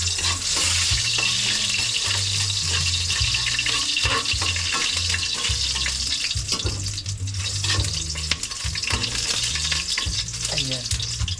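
Garlic sautéing in a scorched, blackened wok for eggplant adobo: a loud, steady frying sizzle that fills the clip, with stirring scrapes and clinks running throughout.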